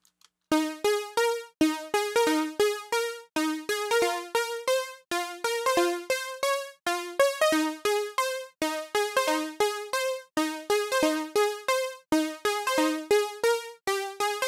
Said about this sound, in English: you can hear that modulation occurring on the tune